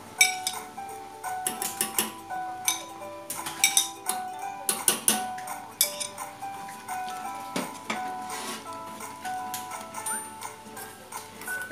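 A spoon adds crab meat into a bowl of baby porridge, producing a rapid series of close, bright metallic clinks and taps against the bowl, repeating irregularly throughout.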